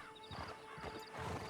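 A horse in the video game Red Dead Online snorts and shifts with soft hoof clops, faint and close, mixed with a brief whinny and quiet background tones.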